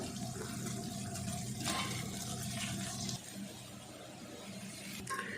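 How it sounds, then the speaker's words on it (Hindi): Rice poured into a pot of milk and melted sugar for zarda makes a rushing, watery pour that ends partway through, followed by a quieter bubbling hiss and a brief clink. "अब इसमें डाल देंगे चावल।"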